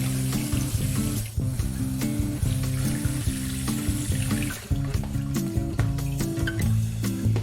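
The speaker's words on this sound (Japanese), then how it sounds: "もう一度水を溜める容器に戻って、ノズルのレバーを引いて水を溜めていきます。" Water rushes steadily from a lever-operated hose nozzle into a container being filled for an aquarium water change, a continuous splashing flow with a low tonal hum running beneath it.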